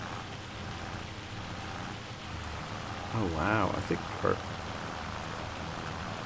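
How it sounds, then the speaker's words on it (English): Heavy rain in Farming Simulator 25 gives a steady, dense hiss that runs through the whole stretch, with a person talking over it partway through. "And it's raining really hard."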